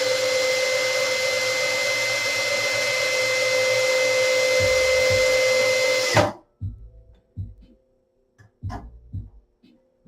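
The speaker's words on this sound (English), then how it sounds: "And we're going to screw these guys back in." A power screwdriver whines steadily for about six seconds while driving long screws back into a Derby Owners Club arcade main board, then stops, followed by a few light knocks and handling clicks.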